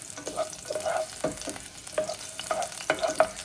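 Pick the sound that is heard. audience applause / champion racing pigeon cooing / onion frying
onion frying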